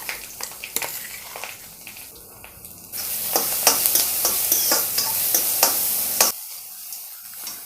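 Curry leaves and ground coconut sautéing and being stirred in a pan for chana sundal, a steady close sizzle with scraping stir strokes, louder in the middle before dropping off near the end.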